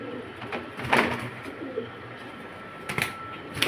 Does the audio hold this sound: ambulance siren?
no